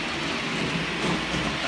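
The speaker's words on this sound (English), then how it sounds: "now that other train's making a bit of noise" An HO scale model train runs along its track with a steady, close rattling and whirring rumble, continuous for the brief moment.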